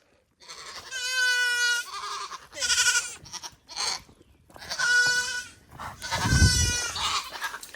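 Goats bleat several times in a row outdoors, loud and near, with wavering cries separated by short pauses. A lower rustle or thump joins the last call.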